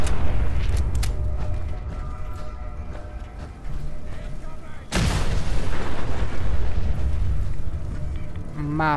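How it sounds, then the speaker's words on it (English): Heavy explosions and booming fire ripple through a Fallout 4 boss fight, a continuous loud barrage with a sharp blast near the middle, under occasional game noise. "Mass explosions."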